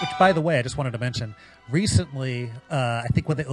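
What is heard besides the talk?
None of the usual background noises is heard.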